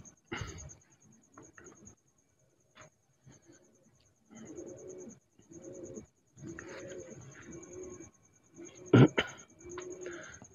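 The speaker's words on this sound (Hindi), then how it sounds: "ये मेरे पीछे भी कबूतर बैठे हैं जी" Pigeons coo in soft, repeated low bursts at close range, several phrases spread across the stretch with brief pauses between them, one louder near the end.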